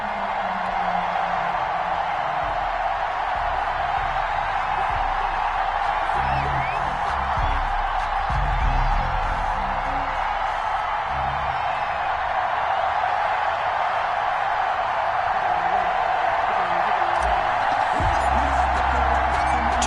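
Home crowd in an EA Sports football game roars steadily at Hard Rock Stadium as Dolphins starters are introduced before facing the Buffalo Bills, a loud continuous stadium wash with scattered whoops and no talk.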